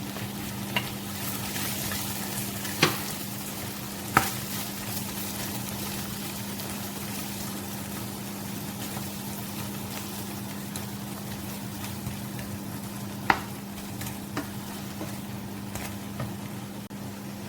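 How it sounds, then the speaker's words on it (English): Mussels and shrimp fry in a pan with a steady, even sizzle under a low hum, broken by a few sharp clinks of utensils against the pan. "And then we're going to add the mussel and the shrimp first."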